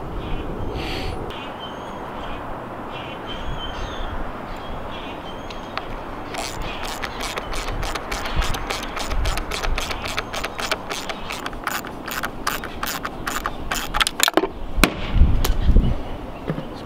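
Rapid ratchet clicking as bolts are tightened on the water pump of a 70 hp Johnson outboard, a dense run of sharp even clicks in two bursts over low workshop noise, close and fairly loud.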